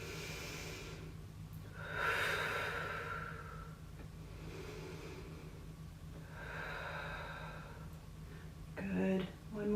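Slow deep inhales and exhales during a chair yoga class, several long breaths in a steady rhythm, close and soft, with faint talking at the end.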